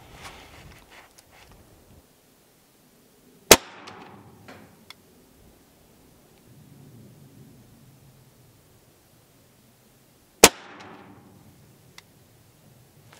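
Two sharp, loud cracks from an Evanix REX .50 caliber air rifle, about seven seconds apart, each trailed by a brief decaying rattle as the shot strikes the target, with quiet room noise between.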